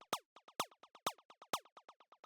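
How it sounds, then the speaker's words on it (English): Short synthesized zaps from an FM synth play in a quick, even rhythm of about a dozen hits. Every other hit is louder and brighter than the ones between it. The sound is dry, close and isolated. "Next thing that we have here is this little zap sound"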